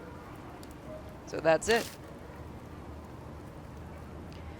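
Steady rain falls on a neon-lit street in the video game Spirit Hunter: Death Mark, a soft constant hiss that runs throughout under a brief spoken line.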